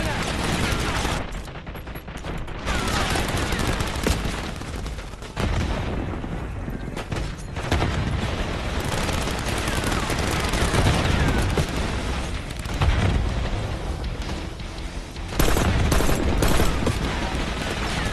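Sustained automatic weapon fire from a minigun in the video game Call of Duty Black Ops 6, dense rattling bursts with booms and explosions running throughout the clip, loud and continuous, with no clear gaps.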